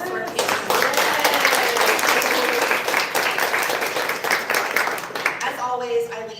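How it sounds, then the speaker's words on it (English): A round of applause for panelists at a Columbus coffee-morning arts and culture discussion, a dense, loud burst of clapping from a live audience that fills the room, then thins toward the end. "can we give a round of applause to our panelists?"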